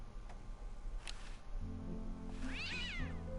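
A cat meows in the point-and-click adventure game Day of the Tentacle, one clear rising-and-falling meow late in the moment over a steady game background, with no talking.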